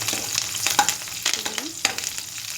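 Mustard seeds and spices for tempering sizzle and crackle in hot oil, a close steady frying hiss with small pops and the scrape of stirring.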